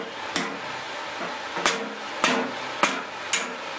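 Five sharp hammer blows strike wood at uneven intervals, each a crisp, close knock with quiet pauses between.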